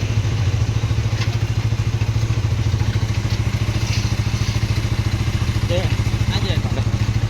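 A motorcycle engine idles steadily with a low, even putter throughout, while people talk nearby over it.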